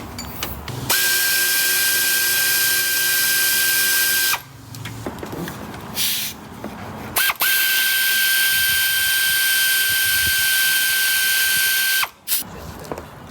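A power tool spins off corroded alternator bolts on a Toyota Corolla that won't charge, with two long, loud high-pitched whirring runs separated by pauses and brief rattling handling noises.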